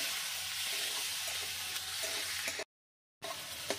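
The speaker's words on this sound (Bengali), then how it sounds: "দিয়ে আমি ভালো করে এগুলো লাল লাল করে ভেজে নেব।" Chopped onion and tomato fry in a pan, a soft continuous sizzle with faint stirring, broken by a short gap of complete silence before the sizzling resumes.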